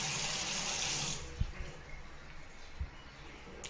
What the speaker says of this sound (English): at least we have cold water and everything is working as intended.